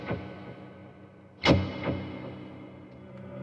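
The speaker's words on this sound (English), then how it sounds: "lots of reverb, lots of delay." Sparse plucked guitar notes ringing out through heavy reverb and echoing delay, each note trailing off into a long wash.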